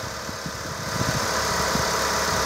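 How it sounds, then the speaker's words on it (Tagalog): A car engine idles steadily and smoothly after its engine bay has been cleaned, a close, even mechanical hum with faint rhythmic pulsing and no talk. "matino ang tunog ng makina"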